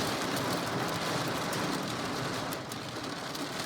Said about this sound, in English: definitely hail hitting here.